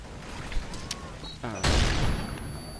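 Magnum revolver gunshots in a first-person shooter video game, with a few sharp near reports and a heavy burst of blasts in the second half, heard alone.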